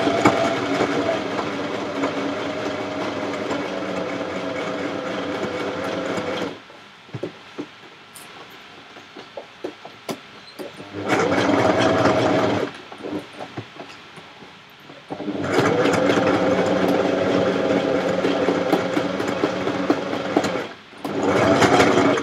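A sewing machine stitching fur together for a fursuit runs in long, loud, steady mechanical bursts, with a quieter pause between them, and no one talks.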